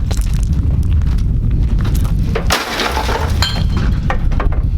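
Car window glass shatters in a loud crash partway through, a burst of crunching and tinkling fragments over a steady rumbling noise bed, close by.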